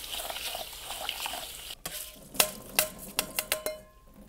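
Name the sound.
washing raw rice in water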